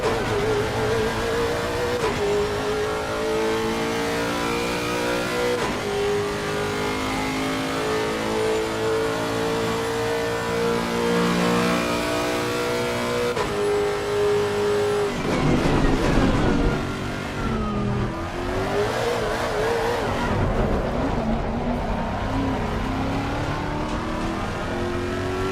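A race car engine in the sim racing game Automobilista 2 revs steadily at mid pitch, climbing and dropping through the gears with a rougher, louder burst of throttle near the end, continuous and close.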